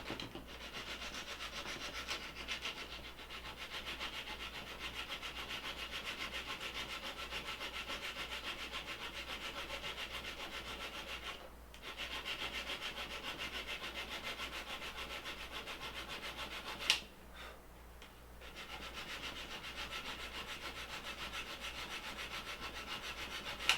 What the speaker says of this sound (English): it takes about 30 seconds to file down one nubbin